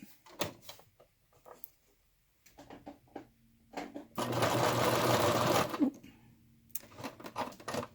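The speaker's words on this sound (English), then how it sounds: "we're just going to sew over that." A sewing machine stitching over a folded zipper seam runs in one steady, fast mechanical whir for a couple of seconds, framed by quieter clicks and handling sounds before and after.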